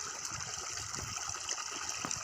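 Irrigation water flows into a channel on a village farm in Gujarat, a continuous rushing gurgle close by, steady and even with no talking.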